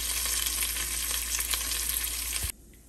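Curry leaves crackle and sizzle loudly in hot oil in a pan of crispy bitter gourd fry, a dense spitting hiss with a few stirring knocks, cutting off abruptly near the end.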